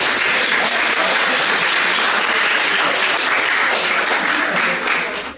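An audience at an Estonian career evening on energy gives a sustained burst of loud, dense applause that fills the room evenly before tapering off at the end.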